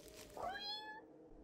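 A cat in the horror video game Their Eyes gives one clear meow with a rising then falling tone, close and distinct against a faint game background.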